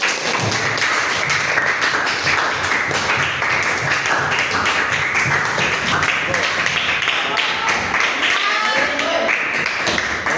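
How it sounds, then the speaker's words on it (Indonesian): Schoolroom applause for a student group, many hands clapping in a dense steady patter throughout, loud and near, with voices talking faintly underneath. "Tepuk tangan dulu untuk kelompok 1"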